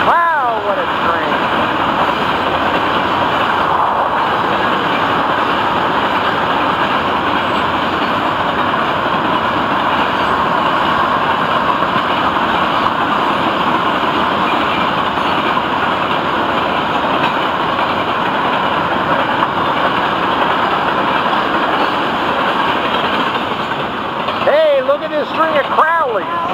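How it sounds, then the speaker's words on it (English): A long freight train of rock cars rumbles and clatters steadily past, a continuous heavy roar with occasional squeals of wheels near the end. "Oh, what a train. Look at this rock train."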